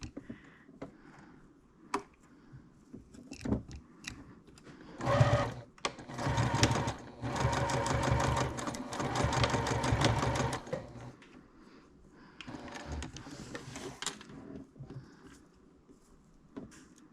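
A sewing machine stitches a 1/4 inch seam while building a wallet, running in several bursts of fast, rhythmic clatter with short pauses and lighter clicks between, close and fairly loud.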